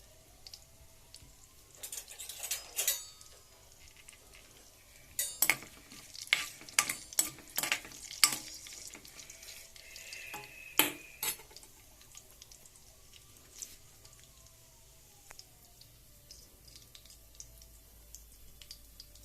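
Tempering seeds and garlic crackle and pop sharply in hot oil, a cluster of loud close spits in the middle that thins to scattered faint pops, over a quiet sizzle.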